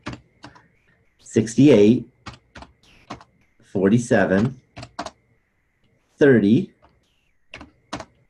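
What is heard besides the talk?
typing numbers into a calculator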